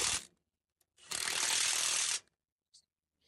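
Ratcheting of a 3/4 wrench tightening bolts on a manure spreader's replacement apron slat: a short click burst, a pause, then a longer, steady run of close, dry ratchet clicks, with a faint tap at the end.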